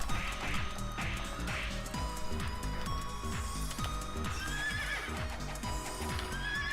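A horse in the Ragnarok Battle Offline video game gallops with rapid, rhythmic clip-clop hoofbeats, repeated neighs and whinnies over game sound effects, loud and continuous.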